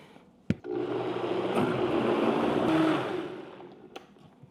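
A blender blitzing salsa verde whirs loudly for about three seconds after a sharp click, then winds down, with another click at the end.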